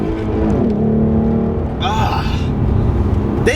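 A V6 Ford Mustang engine revs and pulls hard as the car accelerates, a steady close droning rumble rising in pitch, with a sharper upward sweep near the end.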